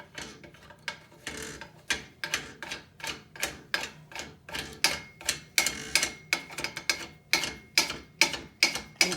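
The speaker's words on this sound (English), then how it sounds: "I'm just simply going to unscrew it." A part being unscrewed from an Ancheer treadmill frame, giving a close, rhythmic series of sharp ratcheting clicks repeating steadily throughout with no speech.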